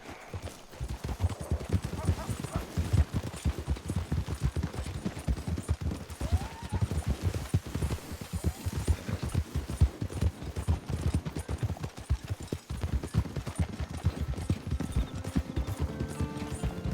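Horse hooves clip-clop steadily in a video game, a continuous close run of hoofbeats lasting the whole stretch with a busy, slightly noisy backdrop.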